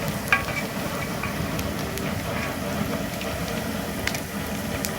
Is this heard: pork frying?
yes